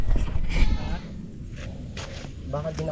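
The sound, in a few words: goat bleating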